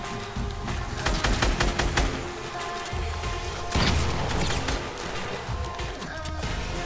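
Video game gunfire bursts in rapid, loud volleys of crackling shots and crashing impacts, nearly continuous with a heavier blast midway.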